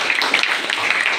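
A classroom of students applauds a classmate, a dense wash of many hands clapping at once, steady and fairly loud for about a second with no gaps.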